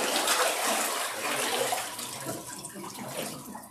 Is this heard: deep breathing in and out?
no